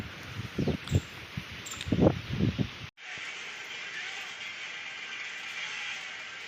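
A soft breeze moves through leaves at a Shiva temple, a faint steady rustling hiss that continues alone after a few seconds of nearby talking.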